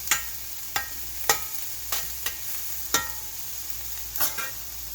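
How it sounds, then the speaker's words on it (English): Onions frying in a cast iron pan are stirred with a utensil: about eight sharp scraping strokes at an uneven pace over a steady, close sizzle. "I'm going to stir up my onions a little bit."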